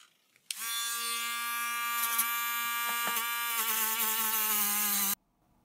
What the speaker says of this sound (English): brass wire brush on it, so that I can really get in here and get into the edges of these things